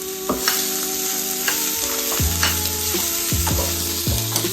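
Onions sizzling in hot oil in a pan for a traditional Telangana-style fish curry, a constant crackling hiss broken by a few scraping clinks of a spoon stirring against the pan.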